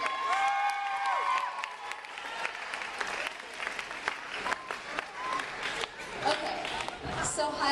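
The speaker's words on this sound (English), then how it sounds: "So can we get a round of applause for these guys?" An audience at a school assembly breaks into sustained applause with scattered cheers and whistles, a dense wash of clapping that holds steady for several seconds while voices call out within it.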